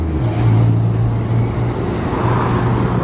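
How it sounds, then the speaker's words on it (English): A lorry carrying circus equipment drives past at a 2021 classic truck show at the Midway Truck Stop, a steady low rumble that swells and fades slightly, fairly close with no talk. "Got a lorry with some sort of circus thing going past."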